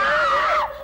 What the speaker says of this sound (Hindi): नानी माँ के चिल्लाने से ही पता चल रहा है कॉफी कितनी गर्म थी